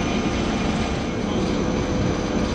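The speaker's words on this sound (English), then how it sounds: "Sailing through the ice." The Sarfaq Ittuk ferry pushing through pancake ice off Greenland gives a loud, steady engine and hull rumble mixed with broadband rushing noise, unbroken throughout.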